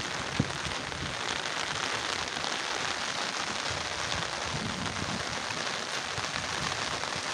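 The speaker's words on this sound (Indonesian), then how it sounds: "Semoga saja ini hujan tidak semakin deras" Steady rain falling during flooding, a dense even hiss of drops on surfaces that holds constant throughout with one brief tap near the start.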